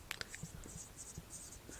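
Marker or chalk writing sentences on a board in a classroom lesson, a few short scratchy strokes in quick succession, faint and close, with no talk over them.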